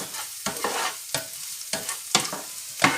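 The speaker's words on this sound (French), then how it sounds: "nos échalotes sont en train de bien suer" Shallots sweat in a pan under a soft sizzle, with quick repeated scraping strokes of a spoon or spatula stirring close by.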